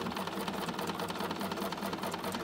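A Bernina 770 embroidery sewing machine stitches rapidly and continuously, a fast mechanical whirring and clatter heard up close with no voices.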